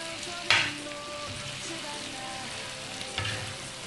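Boneless Lahori tawa chicken sizzles steadily on a hot griddle as butter is stirred through, with two sharp scraping stirs standing out over the constant frying hiss.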